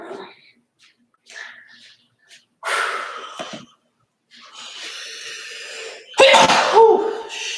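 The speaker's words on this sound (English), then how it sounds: "It's a good sneeze." A loud, sharp sneeze bursts out near the end, preceded by quick inhaled breaths and sniffs, close to the listener.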